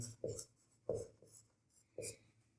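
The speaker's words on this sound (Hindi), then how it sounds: "लिखते हैं हल।" Pen writing out a solution to a Class 10 arithmetic progression problem, three short scratchy bursts of strokes spaced about a second apart, close and quiet, with no talking.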